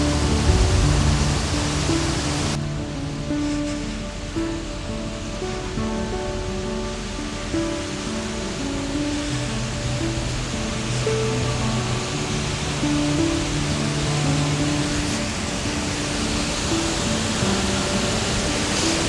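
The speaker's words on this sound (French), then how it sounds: "Regarde cette cascade là" A waterfall on Vágar in the Faroe Islands roars as a steady, loud broadband rush of falling water, continuous and unchanging, with a faint tonal hum mixed in.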